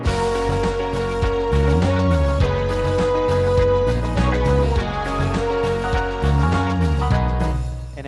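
A full, upbeat disco-style instrumental intro to a song on an arranger keyboard, with a steady driving beat, bass line and layered chords playing continuously, loud and close.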